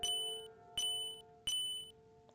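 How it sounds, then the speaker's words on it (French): Three evenly spaced electronic doorbell chimes ring out in the video game Undertale, each a bright tone that fades, with a faint short blip after the last. "J'appuie sur la sonnette, y a personne."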